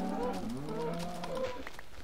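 Several cows moo in Minecraft, overlapping drawn-out lowing calls that carry on steadily for about two seconds, fairly loud and close, with no talking.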